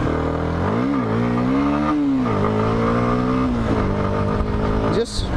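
A CFMOTO 150 NK 150cc motorcycle engine revs with the throttle, pitch rising and falling in a few swells before settling, loud and close, with a voice speaking over it.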